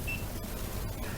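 A Lucky fish finder gives a short, high electronic beep as a button is pressed, heard once near the start over a steady background rush, with faint clicks after it.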